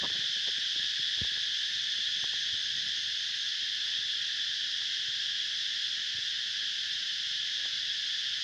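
A steady night chorus of insects, likely cicadas or crickets, mixed with small frogs calling in rural darkness under a full moon; a dense, continuous high buzzing drone with occasional faint clicks and croaks beneath, constant throughout.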